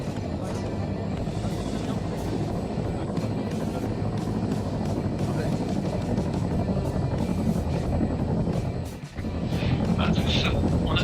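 A helicopter in the video game Arma 3, a steady loud rotor and engine drone, close, with one brief dip near the end, heard under radio-style talk between players.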